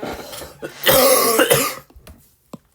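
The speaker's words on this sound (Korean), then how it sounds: "아우, 기침이 계속 나오네요." A person coughs nearby, a rough, throaty fit with a long harsh hack in the middle, then a few small clearing sounds trailing off.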